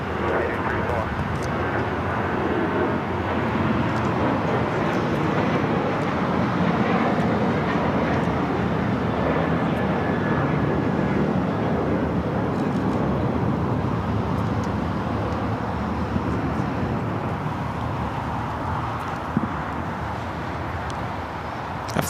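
An Alaska Airlines Boeing 737 takes off from runway 25 right at LAX, a broad continuous jet roar sustained and fairly loud from a distance with faint traffic mixed in.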